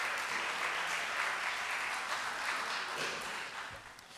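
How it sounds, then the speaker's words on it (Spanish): Audience applause at a gala awards ceremony, a steady wash of clapping from a crowd that holds for a few seconds and then begins to fade, somewhat distant and soft. "Un aplauso para ellos."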